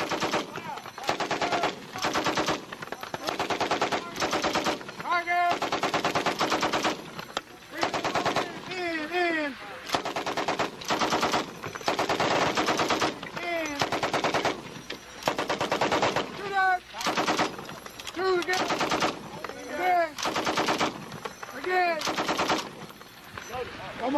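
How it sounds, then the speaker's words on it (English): An M60 machine gun firing repeated bursts during Army range training at Fort Leonard Wood, loud and close, with short pauses between rattling volleys and voices occasionally heard in the gaps. "Put the weapon on fire. Fire when you're ready."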